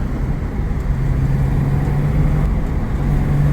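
A Porsche 911 cruising at night after a jump-start, its engine a steady low rumble with road noise heard from inside the car, continuous and fairly loud.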